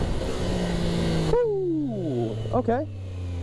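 A Triumph Daytona 660 motorcycle engine rumbles, then rises in a rev that sweeps smoothly back down, followed by a couple of quick throttle blips, with a voice speaking briefly.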